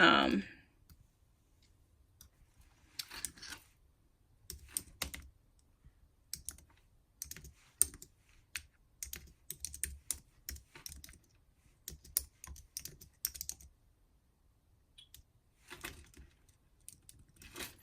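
Computer mouse clicks and keyboard typing come in quick, sharp bursts with short pauses, close-up and fairly quiet, while someone sets up an email for a hair business.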